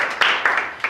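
Scattered applause in a church congregation during a sermon, a few distinct clap bursts in an irregular rhythm, moderately loud and close, each one fading quickly.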